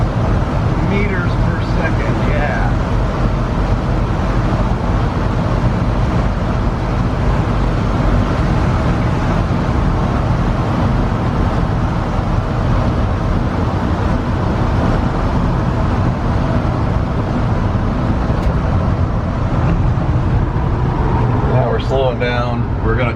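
A 1978 Dodge with an AFR install, driving in third gear, fills the cabin with a loud, steady engine drone and road rumble throughout, and a voice talks over the noise.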